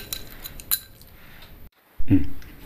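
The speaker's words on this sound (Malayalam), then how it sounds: "നമുക്ക് ഓരോ ഐസ് ക്യൂബ്സും കൂടെ ഇട്ട് കൊടുക്കാം." Ice cubes clink into a glass of a cold drink in a few sharp, scattered taps, then a brief pause and one heavier clunk.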